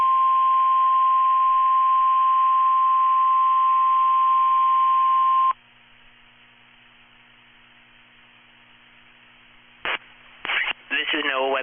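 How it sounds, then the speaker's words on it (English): A NOAA Weather Radio public warning alarm test for Florida transmitters sounds as a steady, loud single-pitch tone over static for about five seconds, then cuts off, followed by hiss and a few short data-burst bleeps. "The preceding signal was a test of the public warning and alarm for transmitters in the Florida listening area"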